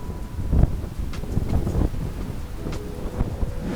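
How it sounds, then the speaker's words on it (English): Gusty outdoor wind near Union Square in Grand Rapids, Michigan buffets the microphone with a continuous rough roar, swelling and easing in irregular bursts. "Super windy today."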